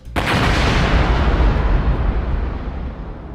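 A powerful explosion set off aboard the Greenpeace ship Rainbow Warrior as it lay moored in harbour, meant to sink it: a sudden loud deep blast followed by a long heavy rumbling roar that slowly fades, with no voices.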